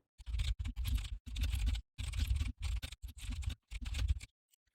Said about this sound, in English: And then you type your announcement out.